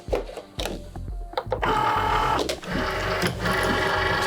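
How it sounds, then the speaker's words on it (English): A Cricut machine cuts heat transfer vinyl on a mat with whirring motor runs and clicking carriage moves, loud and close, in stop-start bursts with no talking. "Then we're ready to insert it into the machine"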